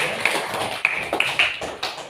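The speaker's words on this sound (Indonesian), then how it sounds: "Kasih tepuk tangan dong kalau di rumahnya ada." A classroom of children claps hands in a short, uneven burst of a few scattered claps, fairly quiet and close, with no talk over them.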